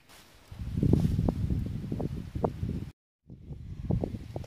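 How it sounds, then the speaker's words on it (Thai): Strong outdoor wind gusting across the microphone, a rough low rumble with rustling and buffeting that swells and dips, briefly cutting out before returning. "โอ้ลมแรง"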